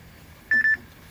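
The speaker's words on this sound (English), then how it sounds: "Phone's ringing." A short electronic beep sounds twice in quick succession, a clear high tone in an otherwise quiet room.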